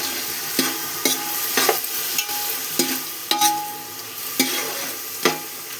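A spoon scrapes a pan in regular strokes about once a second while masala fries in oil over low heat, sizzling steadily underneath; close and clear, no voices.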